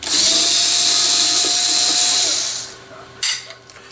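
A cordless power drill with its clutch bypassed drives screws during a radio restoration: a loud, steady high-pitched whine for about two and a half seconds, then it winds down, followed by a brief click and clatter.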